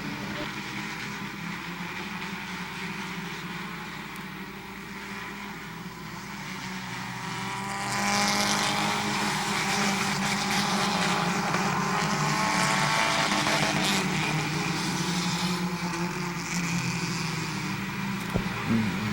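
Race cars roar down the backstretch at Midvale Speedway in 2013. Several engines blend into a continuous droning roar that swells louder about halfway through, heard from trackside with no clear talk.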